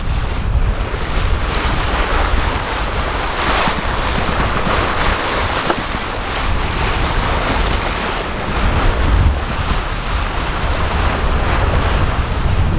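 Steady roar of wind and rushing waves aboard a sailboat making about 8 knots in 20-knot winds on a flat sea between Caribbean islands, loud and continuous with gusty swells.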